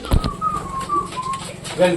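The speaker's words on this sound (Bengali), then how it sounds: "পায়রাগুলো বাইরে আসার জন্য একদম পাগল হয়ে যাচ্ছে" Pigeons coo in a loft, soft low throaty calls overlapping close by with a few wing flutters, the birds restless to get out.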